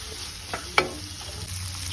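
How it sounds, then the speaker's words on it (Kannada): Onion, tomato and bottle gourd frying in a pan, giving a steady soft sizzle with one brief scrape of stirring in the middle, close and moderately quiet. "ಇನ್ನೂ ಒಂದು ಎರಡು ಮೂರು ನಿಮಿಷ ಹಾಗೆ ಫ್ರೈ ಮಾಡ್ಕೊಳ್ಳೋಣ"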